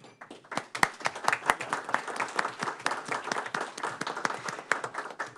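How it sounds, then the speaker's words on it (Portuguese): Directors clap for Dr. Cantarino at an ANEEL public meeting, a sparse group applause with distinct, close individual hand claps, irregular and crisp, rising and falling across several seconds. "uma salva de palmas ao doutor Cantarino"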